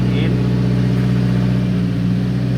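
A 1.7 car engine idling with the air conditioning on during an inspection, a steady low hum running evenly throughout.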